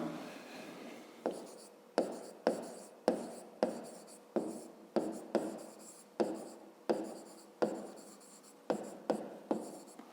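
Pen or chalk strokes tap and scratch in a steady series of short, sharp bursts, each fading quickly, as numbers are written out for a fifth-grade maths exercise on a rectangle's perimeter; no talking over it.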